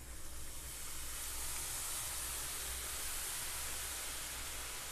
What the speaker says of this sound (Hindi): अब इसमें हम आलू का लच्छा जो बनाए थे वो डाल देते हैं।